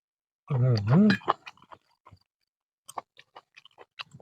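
Crunchy blanched squid being chewed close to the mic gives a string of short, crisp crunches and bites, following a brief vocal hum at the start.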